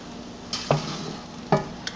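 Vegetables and mushrooms cook down in a pan, giving a soft, steady sizzle with a few distinct utensil scrapes of stirring spaced apart, fairly quiet and close, with no talking.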